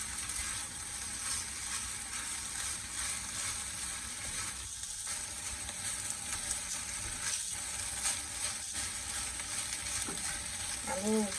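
Corned beef fried rice being stir-fried in a pan, a steady loud sizzle and crackle running throughout with occasional scraping of the utensil, close up, a brief voice near the end.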